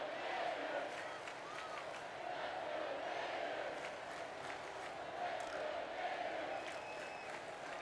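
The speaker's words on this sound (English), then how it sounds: "Crowd starting to get behind the Florida Gators, wanting to get their offense clicking" A stadium crowd at a college football game between Ohio and Florida cheers for the Florida Gators, a sustained distant roar with scattered shouts and clapping that holds steady throughout.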